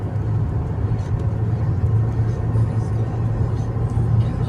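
Traffic streams along a four-lane Malaysian highway, a steady, close road rumble with a low humming drone running throughout and faint higher hiss over it, no speech heard.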